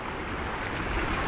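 Choppy sea slaps and washes around a small dinghy crowded with four people, a continuous close churn of water with wind rumble on the microphone.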